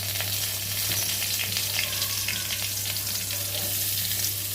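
Ingredients sauté with asafoetida powder in a hot, oiled pan, producing a loud, even sizzle that holds steady throughout with faint stirring and a low hum behind it.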